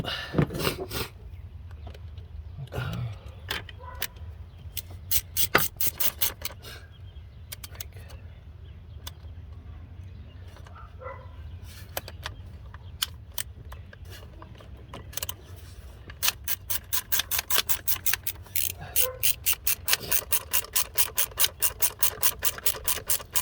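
A 2014 oil cooler part being screwed on by hand, with scattered metallic rubbing and scraping, then increasingly rapid clicking and ratcheting ticks in the last seconds, close and without speech.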